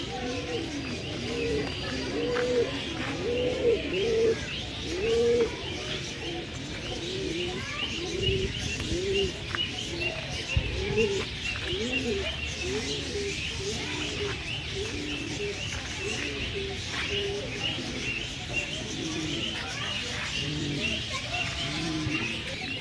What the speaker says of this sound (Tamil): ஆடம்பர புறாக்கள் அப்படியே பாருங்க எப்படி இருக்குல்ல